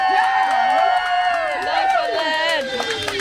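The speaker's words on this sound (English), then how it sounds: "so big round of applause" A crowd cheers and whoops for the winner of a lionfish filleting tournament at Tobacco Caye Marine Station, with loud, close, overlapping raised voices filling the whole moment.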